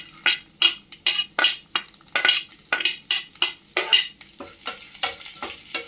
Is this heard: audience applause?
no